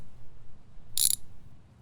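A ratchet wrench undoing engine screws in the car-building game My Garage, one brief metallic ratcheting burst, close and clear, against a faint low background.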